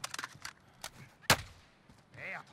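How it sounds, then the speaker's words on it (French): A single sharp sniper rifle crack in the video game Warzone, a loud, brief report standing out midway, surrounded by fainter clicks, footsteps and someone speaking French. "Je me suis pris une balle de snipe"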